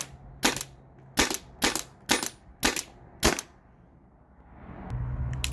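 A Byrna TCR launcher fires six sharp, evenly spaced shots through a chronograph, each a loud, close crack, then a quiet stretch with faint rustling.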